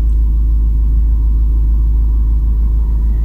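A van's engine idles close by, a loud, steady low rumble with an even mechanical drone and no revving throughout.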